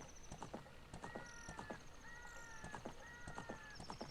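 Rhythmic clip-clop of horse hooves in a Zelda-style video game while searching for Poes, steady galloping beat mixed with bright chiming game tones and background effects.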